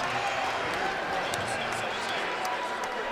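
A college wrestling arena crowd at a Big Ten heavyweight bout reacts to a move with steady cheering and scattered applause, a broad even roar lasting a few seconds.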